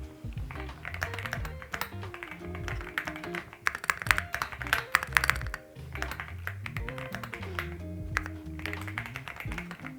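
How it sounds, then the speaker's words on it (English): Rapid typing on a mechanical keyboard with linear switches, a dense run of soft clacks with brief pauses, heard close, with faint background music underneath. "if you're interested in hearing the typing sound"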